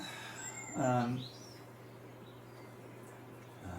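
A single short bird chirp or trill rises briefly above a quiet, steady background hum, then fades, leaving only low ambient noise.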